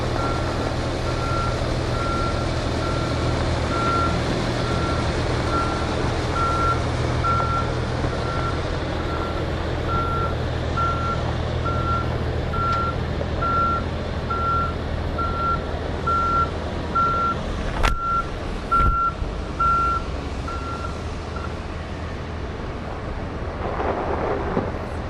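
A 360 WA machine sounds evenly spaced reversing beeps as it backs around at an outdoor work site. The beeps repeat steadily over a constant low engine rumble for about twenty seconds before a few heavier thumps.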